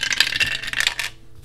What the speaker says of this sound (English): So I'm going to roll this dice.